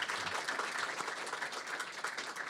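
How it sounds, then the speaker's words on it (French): Applause from the audience at a town event in Annecy, a steady patter of many hands clapping that stays fairly quiet and even, with no voices over it. "Sous les applaudissements du public."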